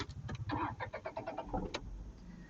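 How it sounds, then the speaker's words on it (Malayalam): A Tata car engine cranks with a quick run of rhythmic starter pulses, then catches and settles into a low, even idle, close and fairly quiet. "നമുക്കൊന്ന് സ്റ്റാർട്ട് ചെയ്ത് നോക്കാം വണ്ടി."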